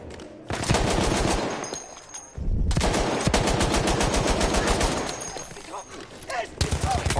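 Rapid automatic gunfire from a PS4 video game roars almost continuously, loud and dense, with a brief lull before the sustained bursts resume and keep hammering to the end.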